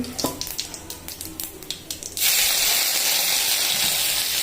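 Cumin seeds and dried red chilli tempering in hot oil for mung dal, starting with light crackling pops and then swelling into a loud, steady sizzle and hiss.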